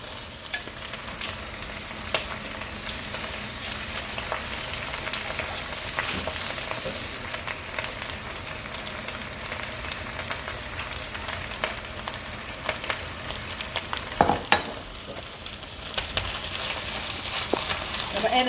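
Eggs frying in a pan, a steady bright sizzle and crackle that runs unbroken throughout, with occasional scraping clatter from a utensil and little speech.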